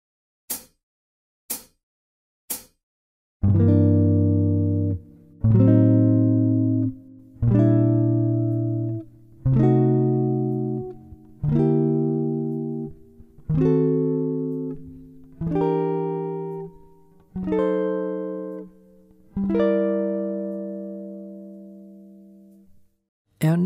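Jazz guitar playing a slow sequence of Barry Harris walking chords, about ten sustained chords struck one at a time with short gaps between them, clean and close, preceded by three quick clicks.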